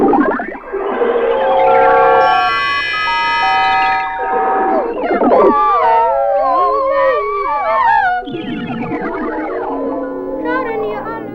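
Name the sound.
electronic sounds with pre-recorded treble voice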